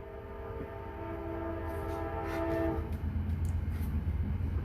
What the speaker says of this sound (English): Yep, a train's passing.